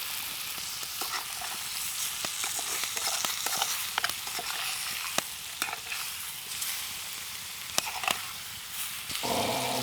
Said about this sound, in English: we're just frying up this fish in this butter